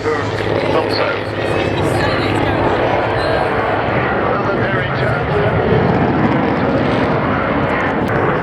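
A Spitfire propeller fighter roars past at speed during an air show, its engine a loud sustained drone over crowd and wind noise, with someone talking throughout.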